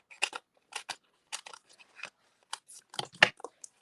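Scissors snipping paper flower pieces for a stamped card, a series of crisp, close cuts in short irregular bursts, quiet and alone.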